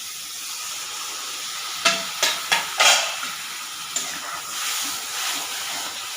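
Katla fish curry in a hot pan with water poured in, giving a steady broad sizzle and hiss, with a few sharp clatters and a brief louder burst of steam partway through.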